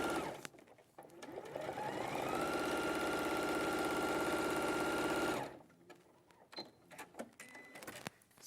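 A sewing machine stitching the side seam of a pencil case runs loud and steady for several seconds, a fast even mechanical whir, then stops, leaving quieter handling noises.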